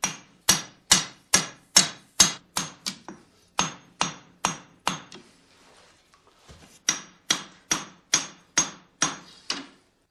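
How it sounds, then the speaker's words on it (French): A hammer beats a steel bar into a blade shape in a long run of sharp, ringing metallic strikes at a steady rhythm, pausing briefly midway before the blows resume, close and alone. "Gassan martèle la barre d'acier."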